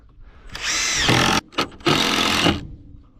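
A power drill drives a carpentry screw into wooden formwork boards on a building site, whining in two long bursts with a short blip between, close and loud, the motor straining as the screw bites.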